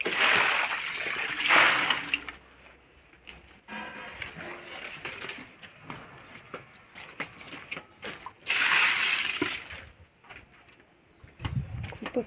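Water from a bucket splashes onto garden plants in two brief gushing bursts, with quieter stretches between and birds calling nearby.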